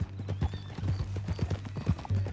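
Horse hooves clip-clop steadily at a walking pace in the Red Dead Redemption 2 video game, close and fairly loud, with a faint whinny-like tone and a low background hum.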